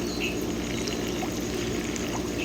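Venturi injector in a tilapia tank pulling in water and air, a steady rushing, bubbling gurgle of water with a continuous hiss, close and even throughout with no talking.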